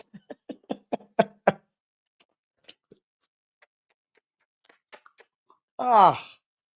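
A dog yawns loudly once near the end, a long breathy, whining yawn up close, after a run of quick sniffs and soft ticking sounds in a quiet room.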